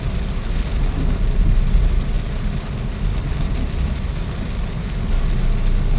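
Steady broadband rain hiss from an approaching typhoon in Montalban, Philippines, dense and continuous, with a low rumbling undertone like traffic or distant thunder; no voices.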